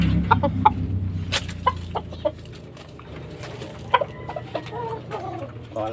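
Several chickens cluck and chatter nearby while eating, in short, irregular bursts over a low background murmur.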